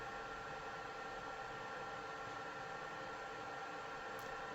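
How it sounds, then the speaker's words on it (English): The cooling fan of a Punehod L1800 DTF printer runs with a faint, steady broadband whir, continuous and even, alone without talk. "See, yeah, you can hear the fan"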